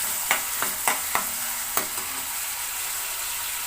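Onions for a cashew chicken curry soften in hot oil in a pan, giving a constant even sizzle with a handful of crisp spoon taps early on, then the frying hiss continues alone.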